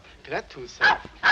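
A dog yips and barks twice in short, sharp bursts, close by, overlapping someone speaking in an old film scene.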